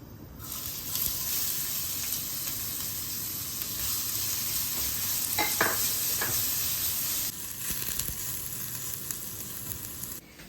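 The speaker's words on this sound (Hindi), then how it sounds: "So I am gonna put the onions now." Onions sizzle and crackle in a hot pan, a loud, steady frying hiss with brief stirring scrapes partway through, and no voices.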